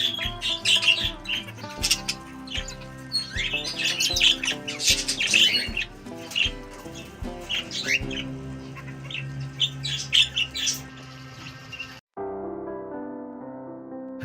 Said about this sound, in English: macaws, and yellow-crested cockatoos are also being bred and sold.